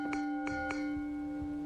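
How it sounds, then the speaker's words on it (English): Bells in an anomaly video game, a few clear chimes struck in quick succession over a steady tonal hum, followed by two soft low thuds. "Those are the four bells."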